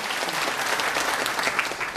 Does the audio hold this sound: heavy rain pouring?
no